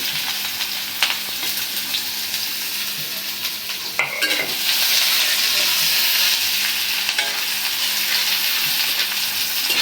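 Chopped onion, garlic and chili frying until brown, a loud steady sizzle with stirring scrapes throughout, intensifying slightly midway, no talking.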